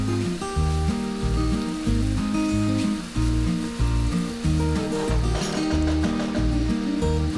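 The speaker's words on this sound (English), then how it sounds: "fry it for about 2 minutes. Until the butter is nicely melted." Butter sizzles steadily as it melts and fries in a pan for a Goan crab masala, a continuous crackling hiss that sits under loud background music throughout.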